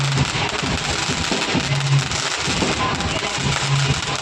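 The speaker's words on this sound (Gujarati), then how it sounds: "હવે ફટાકડા ફોડવાનું ચાલુ થાય છે" Firecrackers go off during Uttarayan kite-festival celebrations, a dense, loud crackling barrage that keeps going without a break, with voices and background sound mixed in.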